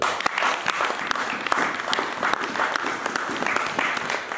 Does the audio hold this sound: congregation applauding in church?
yes